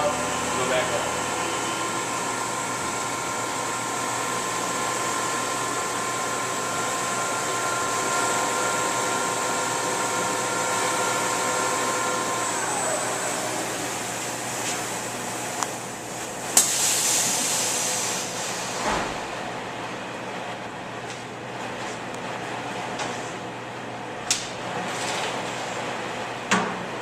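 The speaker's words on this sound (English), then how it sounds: "I'm going to automatically go back to a Z retry, shut the spindle off, go back up" A CNC milling machine hums steadily with a tonal whine, then the spindle winds down partway through and the head retracts, leaving quieter machine noise with a few clicks and knocks, while someone talks over it.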